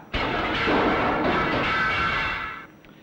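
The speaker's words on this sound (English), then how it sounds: "it can accelerate 4-pound missiles such as this up to nearly 100 miles an hour" A large electric linear motor firing a 4-pound missile to nearly 100 miles an hour in a 1971 lecture demonstration: one sudden loud roaring whoosh that holds steady for about two seconds, then fades away.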